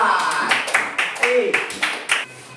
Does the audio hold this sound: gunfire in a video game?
no